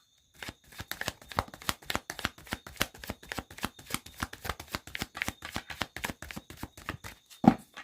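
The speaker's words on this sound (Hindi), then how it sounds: "लास्ट शफल प्रभु जी" Tarot cards being shuffled by hand, a rapid run of crisp riffling snaps and taps in a close, continuous rhythm, ending in one louder slap as the deck is squared.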